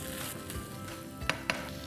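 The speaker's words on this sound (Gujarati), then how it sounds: "તો હવે આપણે આ બધું મિશ્રણ એકવાર હલાવી લઈએ" Grated paneer and boiled rajma are stirred together in a pan for a stuffed hotdog filling: a soft sizzle runs under two sharp spoon taps near the end.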